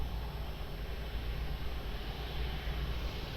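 A jet airliner's engines roar in a steady, broad rumble during takeoff at Lisbon Airport, loud and continuous with deep low-end weight and no voices.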